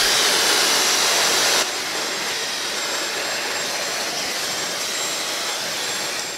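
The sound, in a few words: Dyson hairdryer blowing on hottest setting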